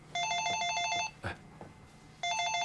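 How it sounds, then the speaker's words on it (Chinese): A telephone rings indoors in a Chinese TV drama home scene: one long electronic trilling burst, a pause with small movement noises, then the ringing resumes clearly and loudly. "你看，来电话催了吧？"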